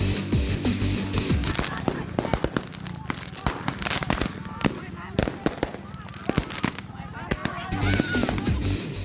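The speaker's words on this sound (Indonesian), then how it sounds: "terlibat tawuran perang petasan di sebuah lahan kosong di Pagedangan" A firecracker war between youths from rival villages on a vacant lot in Pagedangan, Tangerang. Rapid crackling bursts and sharp pops fire repeatedly through the whole stretch, with voices audible underneath.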